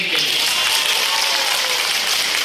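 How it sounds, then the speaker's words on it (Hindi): Applause from a festival audience at the Pathsala Raas Mahotsav, a dense, steady wash of clapping lasting the whole stretch at an even level with no talk over it. "जोरदार तालियां बजाई"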